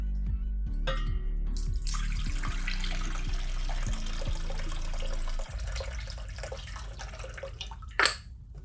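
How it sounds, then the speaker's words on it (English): Excess liquid drawn off from fermented hot sauce ingredients runs in a steady, close stream for several seconds, then softens to a lighter trickle with a brief clatter near the end. "I will draw off the excess liquid."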